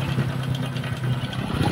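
A Honda XRM 125 FI motorcycle engine idles steadily nearby, a continuous low rumbling putter with an even rhythm and no talking over it.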